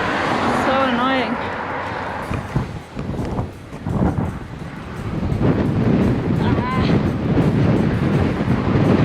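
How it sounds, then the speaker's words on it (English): Strong side wind buffets the microphone while cycling through Greece, a loud steady rushing roar that dips briefly midway and builds again, with voices talking over it near the start. "It is getting extremely windy. Wind comes from the side, just pushing us away."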